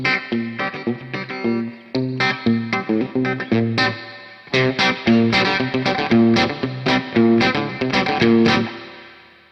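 Distorted electric guitar through Amplitube 4 amp simulation plays choppy bursts of notes with short pauses, then a denser run of bright, sustained phrases, loud and unaccompanied.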